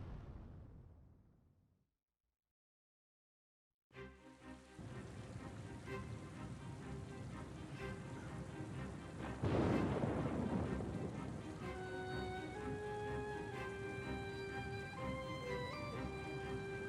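A thunderstorm in the video game Oceanhorn 2: steady heavy rain pours after a short fade from silence, and a loud, close thunderclap booms about midway before rolling on beneath the rain, with soft musical tones rising underneath.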